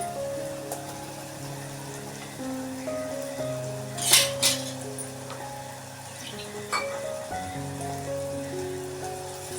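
Goda masala stirred and sautéed in hot oil in a pan for a Malvani-style jackfruit seed curry, giving a steady soft sizzle with a couple of louder scraping stirs midway, under a low background hum.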